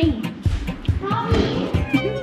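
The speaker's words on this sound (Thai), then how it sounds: "The cat is going inside" A cat meows repeatedly as it comes indoors during a trip in remote Mongolia, the short cries close and clear while people talk and laugh around it.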